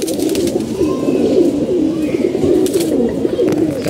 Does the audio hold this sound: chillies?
no